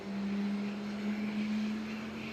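An ATR turboprop airliner on the runway at Nagasaki Airport gives off a steady, moderately distant engine drone with a constant humming tone, heard alone without voices.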